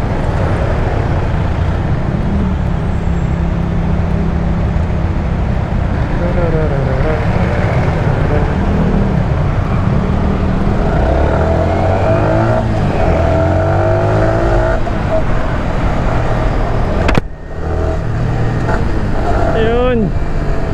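Steady road traffic in a long jam, with a continuous dense rumble of idling and slowly moving engines, occasional revs and passing vehicles, loud and close throughout, and a brief sharp clunk near the end.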